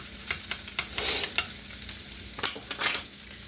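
A spoon stirs garlic butter in a hot pan with a soft steady sizzle underneath, the stirring coming as several brisk scraping strokes spaced irregularly, close and clear.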